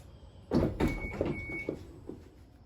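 Power liftgate on a Dodge Grand Caravan in need of repair operating, a short series of mechanical clunks and whirring thumps, close and fairly quiet, with a faint whine between them.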